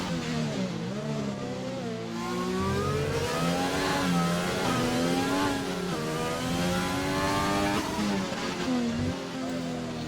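A McLaren race car engine in a realistic racing game revs and howls steadily through gear changes, loud and close, rising and falling in pitch as the car runs downhill, with no talk over it.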